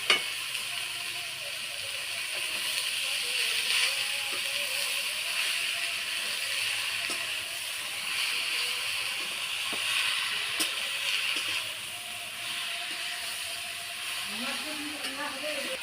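Cabbage added to a pan with fried potato and carrot sizzles and hisses steadily throughout, a continuous bright frying crackle with occasional stirring clinks, loud and close.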